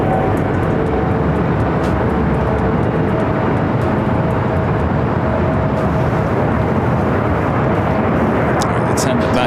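An airliner takes off from runway 24 left at LAX, a loud, continuous, broadband jet roar filling the whole stretch with steady power and no break.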